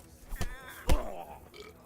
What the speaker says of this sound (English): Someone's burped.